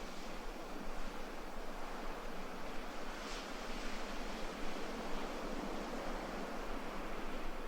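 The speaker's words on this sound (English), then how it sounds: "As the sound of the waves continue" Ocean surf at dawn on a Bali beach, a steady broad hiss of breaking waves and wash rolling continuously at moderate loudness with no voices.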